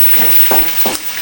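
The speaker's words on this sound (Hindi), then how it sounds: "यहाँ पर ये चिकन फ्राई हो रहा है मैक्रोनी के लिए" Chicken frying in a pan for macaroni, a steady hiss of sizzling oil with two brief louder crackles, close and alone.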